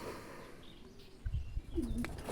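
Racing pigeons coo softly inside a loft, low murmuring calls that are faint at first and then louder and closer.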